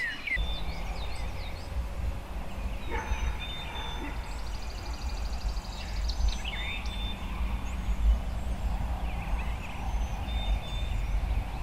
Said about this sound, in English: just heard one do a fly down cackle right there. It's definitely a hen.